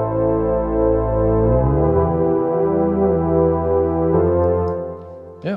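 A Behringer UB-Xa polyphonic synthesizer holds a rich, buzzy chord on E that glides up to G and back down, sustained and loud, ending with a short noisy click.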